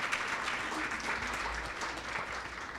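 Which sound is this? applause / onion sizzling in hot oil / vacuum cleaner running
applause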